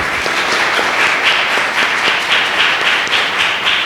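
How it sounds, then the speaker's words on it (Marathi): A church congregation applauds during a Maundy Thursday service, steady dense clapping from many hands filling the room throughout, loud and continuous with no talk over it. "ते देत असताना आपण टाळ्या वाजवूया प्रियांनो."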